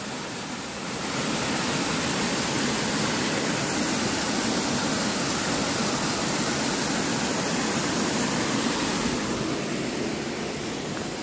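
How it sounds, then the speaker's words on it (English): Loud, steady rush of a flowing stream by the West Hill Covered Bridge, a broad continuous roar that swells in after a second and holds without a break. "over here, we have this lovely rushing water"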